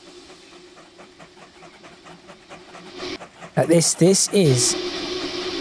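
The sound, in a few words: long train starting to move in video game Transport Fever 2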